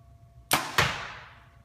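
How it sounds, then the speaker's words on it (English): Two arrows fired in quick succession from a 2016 Hoyt Carbon Defiant compound bow, each a sharp, loud snap followed by a brief decaying whoosh, close by in an otherwise quiet setting. "just gonna shoot a bunch of arrows"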